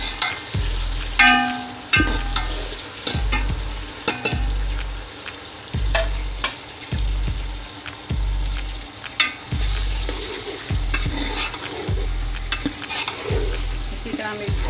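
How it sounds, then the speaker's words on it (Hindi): Chicken pieces coated in paste fry in a pan for biryani, a steady loud sizzle broken by a regular thumping rhythm of stirring strokes roughly every second, close up, with no talking. "अच्छी तरह मिक्स करें चिकन को।"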